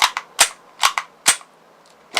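A gas-powered airsoft gun fires about five or six sharp, snappy shots in an uneven rapid rhythm, each crack clear and close against a quiet background.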